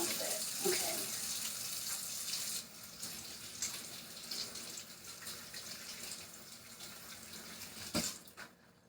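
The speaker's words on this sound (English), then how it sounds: "I need to wash my hands because I got bacon all over my hands." Water runs steadily from a kitchen tap as hands are washed of bacon grease, a soft, even splashing with a brief sharp knock near the end.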